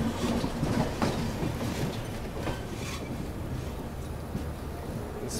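The Telangana Express, with an inspection coach attached, rolls toward Secunderabad railway station, its wheels giving a steady rumbling clatter over the rails along with faint rhythmic clicks and a light squeal.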